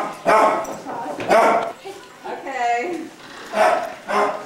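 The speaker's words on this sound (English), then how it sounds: "Barking. No barking. No barking. No barking." A dog barks several times in short loud bursts close by, with a whine between barks, while people talk and repeatedly tell it to stop.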